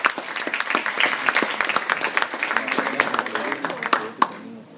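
An audience at an interreligious and intercultural panel applauds to welcome a speaker, with crisp, close claps that thin out toward the end as a few voices murmur underneath.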